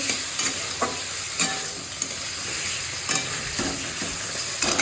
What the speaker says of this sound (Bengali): এখন আমার এই আলুটা কষা হচ্ছে